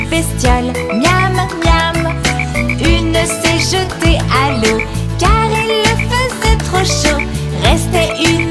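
Croaking frog calls woven into a French nursery song about green speckled frogs, repeating rhythmically over a loud, busy musical backing that runs throughout.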